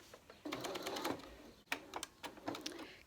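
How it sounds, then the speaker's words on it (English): A sewing machine stitches fabric for an envelope face mask, running in steady bursts of rapid needle clatter with a brief pause midway, close and fairly loud. "Sew down using the left hand toe as my guide."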